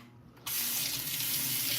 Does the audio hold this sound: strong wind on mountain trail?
no